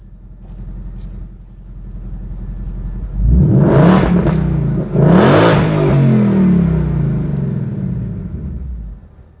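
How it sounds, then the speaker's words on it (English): Exhaust of a 700 HP 2020 Ford Mustang GT V8 in normal mode, a low idle rumble that swells into two sharp, loud throttle revs and settles back to a deep burbling idle, recorded close to the tailpipes. "That sounds pretty mean, just in normal mode."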